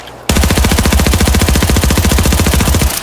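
Automatic gunfire with low-level ammo in Arena Breakout, one long unbroken burst of rapid, evenly spaced shots lasting almost three seconds, loud and close.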